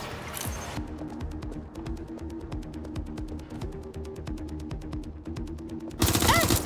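Rapid bursts of automatic gunfire in a military shooter game, sustained and close with sharp repeated shots, ending in a louder blast.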